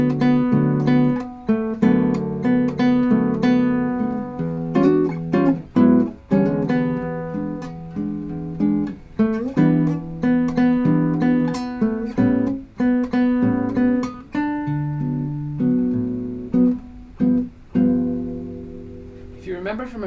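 A solo guitar plays a slow jazz samba chord melody, with chords laid under the tune and plucked strings ringing close and clear for about twenty seconds.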